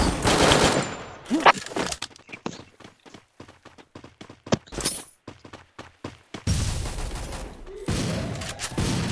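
Rapid bursts of gunfire in a solo-versus-squad battle royale video game, loud sharp volleys and machine-gun rattles at the start and end with scattered single shots and clicks in between, no talk.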